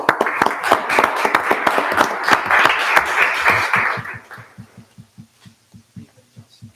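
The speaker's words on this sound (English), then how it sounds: "give you a round of applause from here" Applause for town board members at a town meeting: a dense burst of many hands clapping for about four seconds, then fading to a few scattered, rhythmic claps from a single pair of hands.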